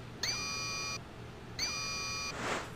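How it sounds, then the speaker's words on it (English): An electronic alarm in Star Ocean: Till The End Of Time sounds as two long, steady buzzing tones with a short gap between them, rather faint and even, with a soft hiss rising at the end. "That's an alarm"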